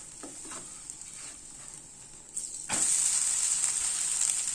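A tomato dosa is flipped on a hot tawa with a few soft scrapes. The hiss then rises sharply into a loud, bright, steady sizzle that carries on alone.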